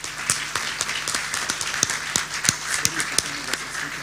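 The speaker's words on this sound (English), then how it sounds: "One big applause for these people from the right." Audience applause at an education and global peace conference, a steady patter of many hands clapping with sharp individual claps standing out, fairly close and continuous.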